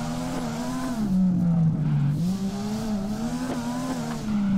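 Stock Nissan 350Z drifting in the DRIFT21 racing game, a loud continuous engine drone whose pitch rises and falls with throttle, with faint tire noise underneath and no talk.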